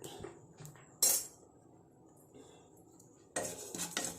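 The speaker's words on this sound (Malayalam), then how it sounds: "നല്ല പോലെ ഒന്ന് വറുത്തെടുക്കണം" Black cumin seeds dry-roasting in a pan as they are stirred: a quiet scrape with a few louder metallic clinks and knocks against the pan, and no talking.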